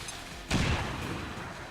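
A grenade goes off in XCOM 2: one sudden, loud, broadband blast that rolls into a decaying rumble over a quiet background.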